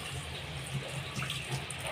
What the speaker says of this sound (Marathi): पाणी टाकणार आहोत